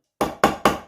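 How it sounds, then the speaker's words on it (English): A rubber hammer gives three quick, evenly spaced taps, then starts a fourth, on the shaft of an NSU Quickly 3-speed moped engine during a rebuild. Each tap is close, firm and dull, with nothing else heard. "With a rubber hammer"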